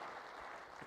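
An audience at a city State of the City address gives another round of applause for two fire chiefs. The clapping is brief, faint and distant, with no talking over it.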